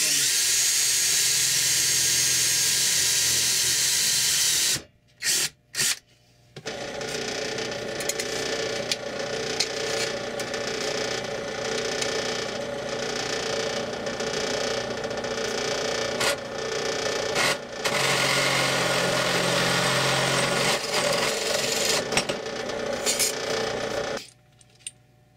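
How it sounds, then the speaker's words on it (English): A drill bores pilot holes in a metal tube amplifier chassis, making a steady mechanical whir with grinding and chattering that lasts about twenty seconds. A few short start-stop bursts come first, and the sound cuts off at the end. "First step is to make some pilot holes."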